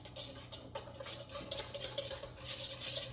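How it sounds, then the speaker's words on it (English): Whisk stirring rosemary, cinnamon and ground almonds in a bowl for a Roman honey cake, a quiet, continuous scraping and swishing with rhythmic strokes against the bowl. "Whisk it up."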